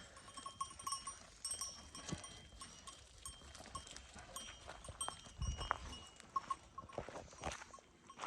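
A flock of sheep and goats moves through rainy pasture, scattered bells clinking and hooves shuffling at a distance over a soft wash of rain, with a faint bleat or two.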